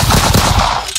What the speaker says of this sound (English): he put gunshots in this shit too